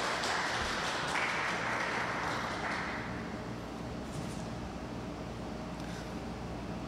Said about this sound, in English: Again, a round of applause for Brother Edgar Esparagoza FSC.